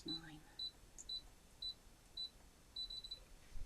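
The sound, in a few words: ScanNCut cutting machine double beep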